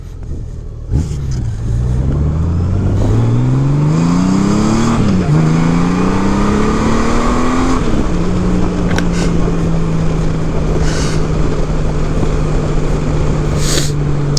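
A 2018 Honda Goldwing Tour with modified stock mufflers pulls hard through several gears, its engine rising in pitch with shifts before settling into a steady cruising drone, loud and close.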